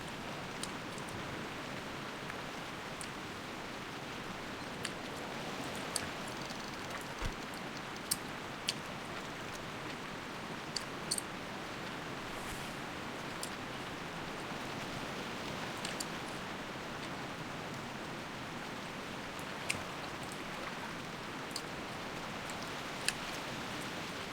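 A heavy downpour in a video game, a steady dense hiss of rain with scattered sharper drip and tap clicks, constant and even throughout with no voices.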